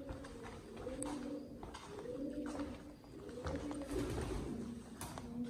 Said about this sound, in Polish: gołębie.